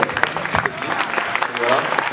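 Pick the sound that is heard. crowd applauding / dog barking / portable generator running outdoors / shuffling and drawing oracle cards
crowd applauding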